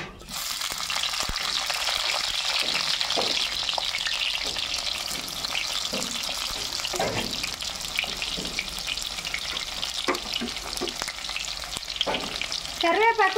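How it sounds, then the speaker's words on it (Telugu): Cumin and chopped onions fry in hot oil in a pan for an egg and eggplant curry, a steady loud sizzle that goes on throughout, with occasional clinks and scrapes of stirring. "నూనె అయితే కాగింది, జీలకర్ర వేస్తున్నా."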